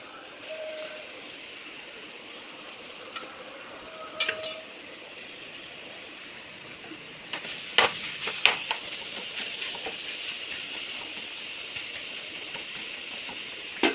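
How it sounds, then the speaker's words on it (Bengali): Grated beetroot frying in a pan over a high gas flame makes a soft, steady sizzle. A few sharper clinks and scrapes of stirring come through in the second half. "গ্যাসের ফ্লেমটা বাড়িয়ে দিয়েছি যাতে ওটা ভাজা ভাজা হয়ে যায়"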